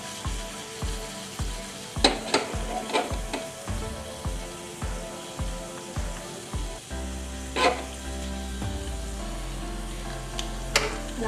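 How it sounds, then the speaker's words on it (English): Tadka tempering for a raw mango yogurt curry sizzles and crackles in hot oil with asafoetida, close and steady, with stirring clinks and a spoon tapping the pan through the first half. "Don't burn the tadka or tempering"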